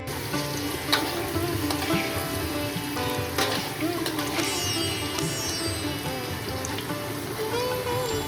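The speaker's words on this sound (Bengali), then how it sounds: "আর সাথে নুন আর হলুদ দিয়ে আলুগুলো খুব সুন্দরভাবে ভাজতে থাকব" Potato pieces frying in hot oil with turmeric and salt, a close, continuous crackling sizzle with occasional sharper pops and stirring clinks throughout.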